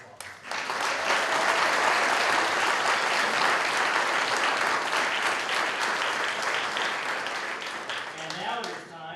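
A large audience at an MLK Day celebration applauds its representatives with sustained, dense clapping that swells quickly, holds steady for several seconds and tapers near the end.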